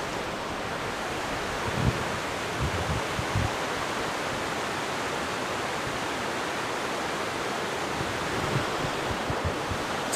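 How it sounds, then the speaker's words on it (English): A mountain stream at a trail crossing on the Pacific Crest Trail rushes in a constant broadband roar, loud and close, with no voices. "We made it to the stream crossing that is, quote, unsuitable for stock, and for obvious reasons."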